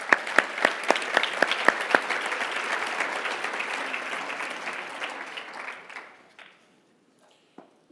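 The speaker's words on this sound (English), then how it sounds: "So a round of applause." A conference audience at an opening session gives a round of applause, dense clapping for about six seconds with a few sharp claps early on, then it fades out, leaving a brief stray sound near the end.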